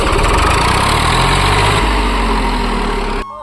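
A tractor with a failed starter, push-started, runs with a steady, loud, close engine drone that holds throughout before dropping off sharply near the end.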